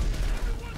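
Machine gun fire in a GTA-style video game set in Los Santos: a steady, rumbling stream of rapid shots, loud and close. It runs without a break for the whole moment, with no clear talking.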